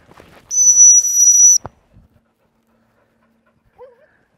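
A gundog training whistle sounds one long, steady, piercing blast up close, followed by a couple of soft clicks and near silence.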